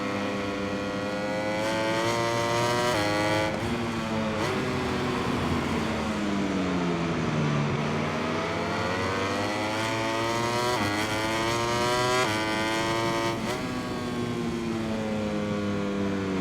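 Racing motorcycle engine in MotoGP 21, a loud continuous high-revving whine that climbs and drops repeatedly through gear changes, sweeping down into a deep dip around a corner before screaming back up, with no talk.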